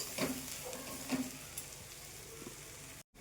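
Kachori filling is stirred in a pan with a soft, low sizzle and a few scraping stirs, quiet and close, ending in a brief cut of silence.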